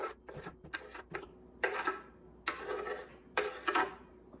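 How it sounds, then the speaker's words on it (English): Vegetables for an omelet being stirred in a skillet: several bursts of scraping, clinking utensil strokes against the pan, near and moderately loud, with short quiet gaps between them and no talk. "So we gotta stir it."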